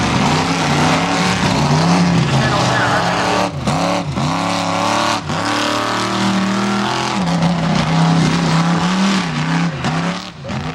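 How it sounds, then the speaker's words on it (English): A 1988 Ford with a 460 cubic inch Ford engine, 5-ton rear end with planetary and a Rockwell transfer case, races with a loud, continuous engine roar whose pitch rises and dips through repeated revs and gear changes. "With a 1988 Ford. He's got a 460 cubic inch Ford engine under the hood"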